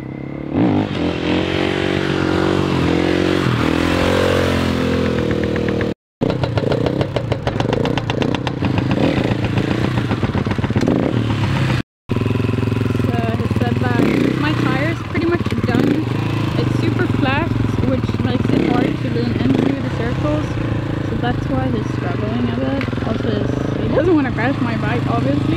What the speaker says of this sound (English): Taking my bike out for a test ride